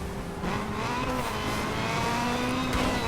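Car braking in the 2012 video game Need For Speed Most Wanted: a steady engine drone with tonal whine and tire noise running the whole time, loud and continuous, with no talking.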